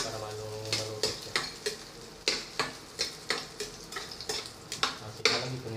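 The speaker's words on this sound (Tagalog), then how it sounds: "Kunting halo-halo na ng sibuyas para maluto siya." Onions frying in a pan for a scrambled egg dish are stirred with a utensil, giving a series of sharp, regular scrapes and knocks against the pan over a soft sizzle, close and clear.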